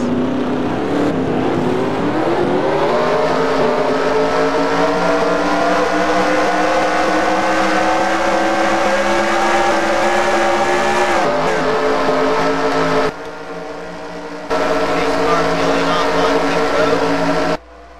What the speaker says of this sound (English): Let's get these cars rolling off